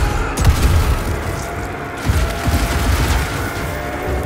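Pistol fire at an enemy in the Evil West video game, heard as repeated loud shots and booms over a dense, constant game soundscape, with no talk.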